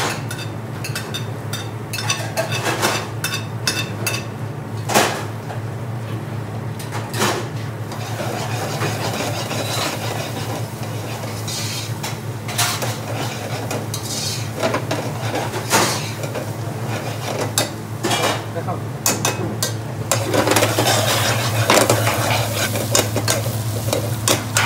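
Garlic and ginger frying in a pan for a restaurant-style lamb bhuna, a continuous close sizzle under steady stirring and scraping of a spoon against the pan, with a low kitchen hum throughout and no talking.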